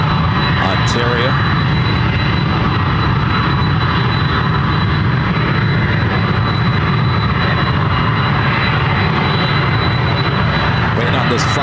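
A jet airliner taxis across the airside at Ontario airport toward the cargo area after arriving from Boise, producing a loud, continuous engine roar that holds steady throughout.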